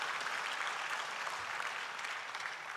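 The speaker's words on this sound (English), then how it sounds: "Kindly give the President a warm round of applause." An audience at a presidential dialogue on African development applauds the President, a dense, steady wash of clapping that stays even and fairly loud for the whole stretch, with no voices over it.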